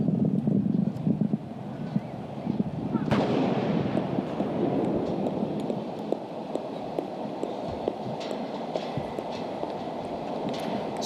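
Ceremonial 21-gun artillery salute at a state parliament opening ceremony: one sharp, loud boom strikes and leaves a long rolling rumble and echo, while crowd noise and faint voices continue around it.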